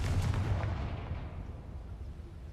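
A Confringo fire spell cast in Hogwarts Legacy bursts with a heavy, booming blast at the start, its low rumble decaying over a couple of seconds; no voices.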